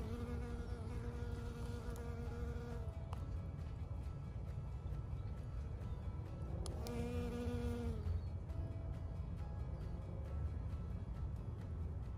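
Steady buzzing of insects fills the air continuously, with faint tonal hums rising and fading in the background.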